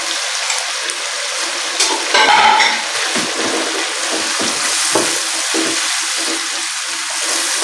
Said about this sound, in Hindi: चिकन जो है वो बहुत अच्छे से फ्राई हो रहा है